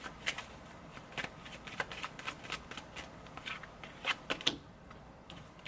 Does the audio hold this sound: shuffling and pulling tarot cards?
yes